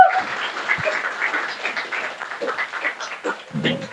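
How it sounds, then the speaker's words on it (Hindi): A church congregation claps during a sermon on Christian marriage, scattered clapping mixed with voices and shouts, uneven and moderately loud, with bursts of sound toward the end. "come on, praise the Lord, तालियां बजाओ"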